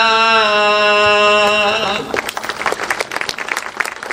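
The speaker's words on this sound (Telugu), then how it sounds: "ఆనందించి చప్పట్లు కొట్టారు లేదా" Audience applause after a chanted Sanskrit stotra recitation at a spiritual discourse breaks out after a sustained tonal voice ends, a dense burst of many hands clapping filling the hall at moderate loudness.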